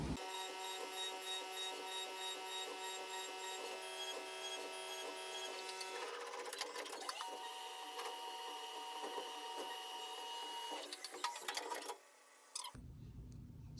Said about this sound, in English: the machine running, where it actually turns a solid piece of metal into little metal shavings